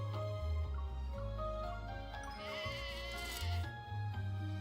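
A sheep bleats repeatedly in a video game over a steady bed of background music, the wavering cries rising and falling close to the listener.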